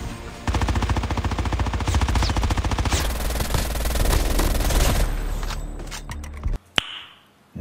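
Submachine gun fire in the Call of Duty Mobile battle royale game: sustained rapid bursts of automatic shots, loud and close, for several seconds, then a few isolated sharp bangs as the firing stops.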